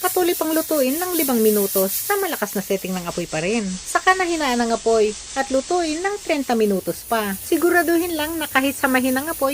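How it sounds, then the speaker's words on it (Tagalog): A pressure cooker on a stove hisses steadily as its regulator vents steam while oxtail nilaga cooks, a continuous airy hiss running beneath nonstop close speech. "pumipito pa rin yung pressure regulator nito"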